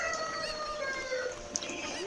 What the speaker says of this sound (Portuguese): os galos e garnizés estão cantando ao fundo aí